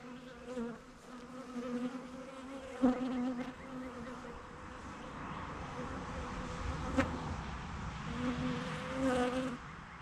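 Bees buzz around an open hive outdoors, a steady swarming drone with individual insects droning louder as they pass close, faint and continuous for ten seconds with no speech.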